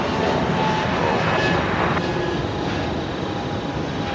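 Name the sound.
Airbus A220 airliner passing at Brisbane Airport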